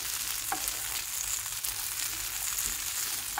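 Sweet potato tossed with rice flour stir-fries in a pan, a steady close sizzle with a few soft scraping stirs, no voices.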